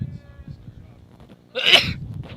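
A single sharp sneeze bursts out after quiet background murmur at a high school baseball game, close and loud, followed by faint voices.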